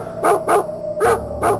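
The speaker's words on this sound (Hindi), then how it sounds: "दूर दूर तक सिर्फ कुत्तों के भौंकने की आवाज सुनाई देती थी।" Dogs barking at night in a village, four sharp barks in two pairs, fairly close and loud against quiet background.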